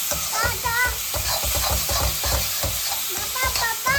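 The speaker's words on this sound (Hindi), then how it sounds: "अब इसको घुमा लेंगे इसके अंदर" Eggplant for baigan bharta fries in a pan while being stirred: a steady close sizzle under repeated scraping strokes of the spoon in a quick, uneven rhythm.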